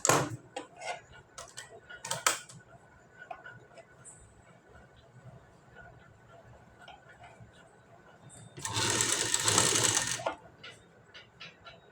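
A sewing machine stitches piping onto a blouse neckline, running in one steady burst of about two seconds near the end, after a stretch of faint clicks, taps and handling noises.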